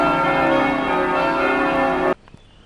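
Church bells ringing in Ljubljana on a Sunday morning, a loud sustained ringing tone that cuts off abruptly near the end, leaving quiet street ambience.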